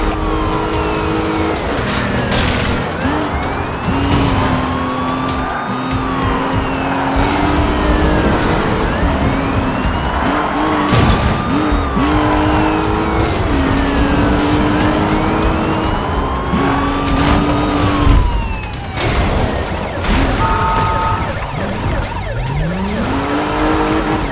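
Police sirens wail through a car chase in the video game Need for Speed Rivals, with rising and falling tones layered over loud racing engines and roaring cars that run continuously.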